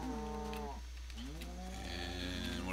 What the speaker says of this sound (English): Make me some more cows.